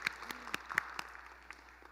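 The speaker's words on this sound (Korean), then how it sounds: "뜨겁게 큰 박수 한번 부탁드립니다" Scattered, fairly faint handclaps from a church congregation at a family dawn prayer service after a children's worship song, with sharp separate claps rather than a full ovation, thinning out over two seconds.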